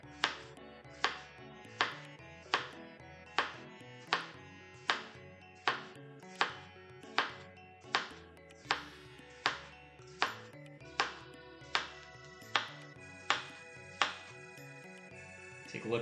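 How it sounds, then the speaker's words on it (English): A knife slices a cucumber thinly on a cutting board in a steady run of about twenty crisp, evenly spaced chops, close and clear with some ringing tones behind them. "There's our cucumber ready to be sliced. It's going to be a nice thin slice."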